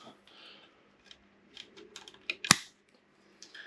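Scissors trimming off cable ties in a quiet room, with faint handling rustles and one sharp, distinct snip, followed by a few soft clicks.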